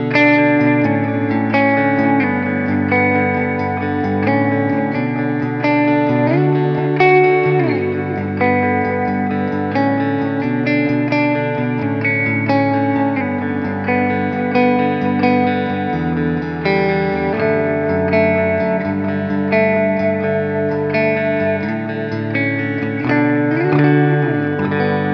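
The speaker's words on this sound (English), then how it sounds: "push it a bit with a drive, add some delay and reverb" An electric guitar, a 1970s Gibson Les Paul, plays sustained chords with mild overdrive, delay repeats and a wash of reverb, continuous and up front, no voices.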